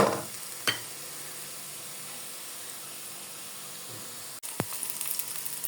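Onions fry in oil with a soft, continuous sizzle and hiss, a couple of sharp clicks or clatters, and a brief dropout before the sizzle resumes; close and fairly quiet, no speech.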